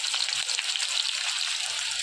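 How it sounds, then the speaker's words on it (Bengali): Dried chillies and onion frying in a pan for a sesame and radish chutney, a continuous close, even sizzle with faint crackles and no talking. "এখন পেঁয়াজটা দিয়ে দিলাম। পেঁয়াজটা দিয়ে একটু ভাজবো।"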